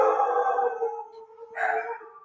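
Many dogs howl together in long, wavering tones that fill the whole stretch, rising into a brighter, louder burst near the end, with no talk over them.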